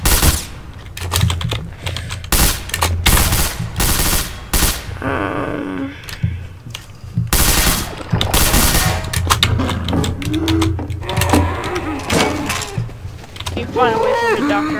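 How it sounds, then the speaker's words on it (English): Gunfire in Garry's Mod rings out as sharp, loud bursts and clustered volleys through the first half, mixed with clicks and impacts, with speaking voices and game sounds in the later part. "Stop shooting me."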